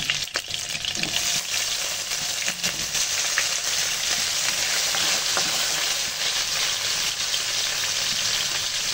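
Boiled beef frying in a pan, a steady close sizzle with stirring scrapes running continuously throughout, without any talk.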